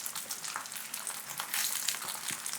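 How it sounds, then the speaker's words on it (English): Oyster mushroom steaks sear in a hot pan, giving a dense, steady crackling sizzle that fills the clip, close and fairly loud with no voices. "when you start to hear that real sizzle is a good time to start pressing it"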